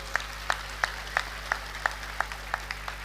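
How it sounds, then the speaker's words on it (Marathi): An audience claps in steady unison at a felicitation event, about three claps per second, moderately loud over a constant low electrical hum, with no voices. "टाळ्या जरा जोरात वाजल्या पाहिजेत"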